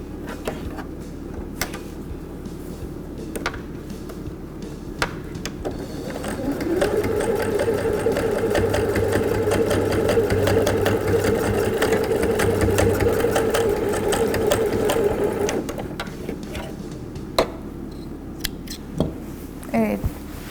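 A home sewing machine stitches a cotton fabric face mask, a steady mid-pitched motor whir with rapid needle clatter running continuously for about nine seconds, preceded and followed by quieter handling noises and faint clicks.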